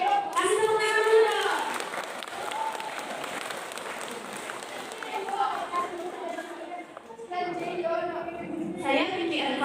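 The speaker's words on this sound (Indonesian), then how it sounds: "Kasih tepuk tangan dulu." An audience at a school drug-awareness outreach event in a village gives a burst of applause, steady clapping with crowd chatter, and voices talk over it near the start and end.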